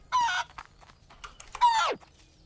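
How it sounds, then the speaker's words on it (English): A chicken in a barn-restoration video game clucks in two loud, close bursts, the second swooping downward, separated by short, softer clucks. "What could I do with this chicken?"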